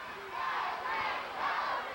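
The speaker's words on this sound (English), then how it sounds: "And the crowd is chanting again" A wrestling crowd at a 1986 WCCW television match chants in unison, a loud, massed roar of voices swelling and falling in two broad waves with no clear individual speech.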